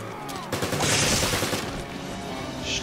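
Gunfire in Resident Evil 5, a dense volley of fast shots with a heavy burst near the start, then continuing crackling fire and a brief bright hiss near the end.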